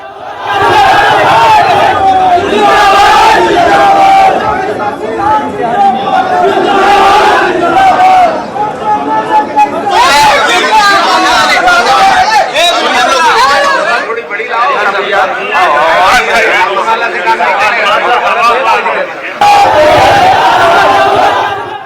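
A large, dense crowd roars and chatters around candidate Anant Singh at his nomination filing in Bihar, with shouts and cheering rising and falling loudly throughout.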